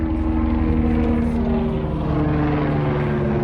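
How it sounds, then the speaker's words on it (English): A helicopter flies near and overhead above a wildfire with smoke in the air, its steady loud rotor and engine drone continuous with strong low harmonic tones and no talk. "Look at this helicopter coming right here."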